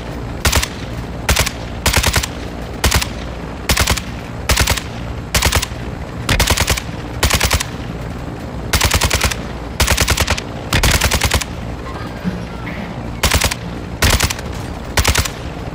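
Repeated loud bursts of automatic gunfire from the video game Call of Duty: Modern Warfare II, about a second apiece at a steady pace, close and dominant over a constant background rumble.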